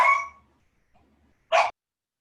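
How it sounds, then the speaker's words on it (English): A dog gives two sharp, loud barks close by, separated by a second of near silence. "Your dog loves to bark at things."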